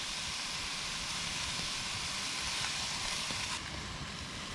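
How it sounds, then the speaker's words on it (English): Meat, mushrooms and potatoes frying together in a pan at a campsite, a steady broadband sizzle that holds close and even throughout, with no voices. "The meat and the mushrooms is starting to brown."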